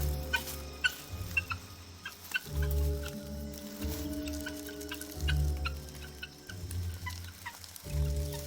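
Guinea fowl call in a flock while threatened by a python, harsh repeated cackling bursts in a steady rhythm, loud and close, with chattering overlapping among the birds.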